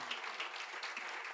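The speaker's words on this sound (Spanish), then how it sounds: "Recibámoslo con fuertes aplausos." A crowd at a parenting forum claps to welcome a pastor, a brief, even patter of applause sounding somewhat distant and soft.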